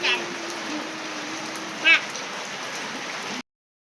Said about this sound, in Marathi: थोडा थोडा पाऊस चालू आहे धीमी धीमी